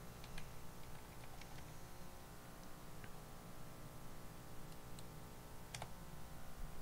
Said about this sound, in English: I'm going to go ahead and type mine in here and blur it out